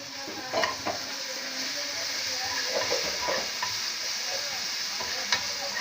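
Green chili, cumin and coriander paste with salt hits a hot pan and sizzles steadily throughout, with a few stirring scrapes and light utensil clinks close by.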